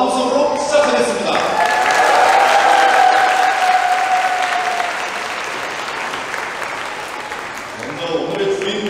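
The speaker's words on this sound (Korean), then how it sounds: "성스러운 결혼식을 여러분의 큰 박수와 환호성으로 시작하겠습니다" Wedding guests in a ceremony hall break into loud, sustained applause with cheering, a dense clapping wash that peaks early, holds steady, then tapers off toward the end.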